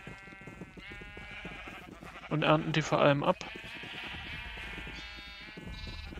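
Sheep bleat in Minecraft, a short cluster of game bleats in the middle, louder than the German talk that runs under it.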